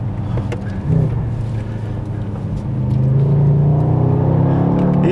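A Mercedes-AMG GT 63 S E Performance hybrid driven in Sport Handling Mode, a deep engine drone heard from inside that rises in pitch as it accelerates, steady and fairly loud.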